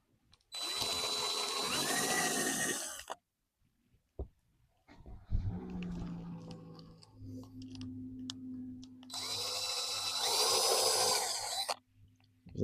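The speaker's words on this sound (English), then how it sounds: "then we'll do a test drill from there" Power drill boring small pilot holes for a pergola build with low-profile roof raisers, outdoors: two loud sustained bursts of whining, grinding drilling separated by a lower humming stretch with a steady motor drone.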